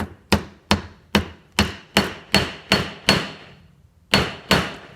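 A hammer strikes a swivel on a trout line, nine sharp ringing metallic blows at a steady rhythm, close and loud, with a short pause before the final two.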